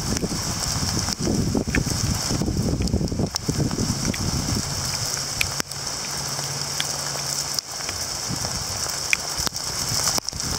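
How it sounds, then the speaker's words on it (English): Small hail mixed with heavy rain during an October wind storm, a dense, loud, continuous patter and hiss of drops striking surfaces nearby, with a few sharper clicks throughout. "Oh my God, I'm collecting hail on my jeans."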